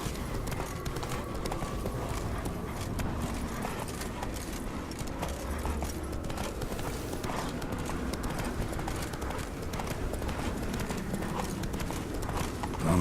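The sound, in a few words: horse Roach galloping, clip-clop hooves, The Witcher 3 video game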